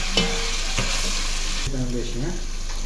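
Chicken curry is stirred and mixed in a pan with sal leaves, a continuous sizzle under a few quick scrapes of a spoon. Faint voices murmur in the background near the end.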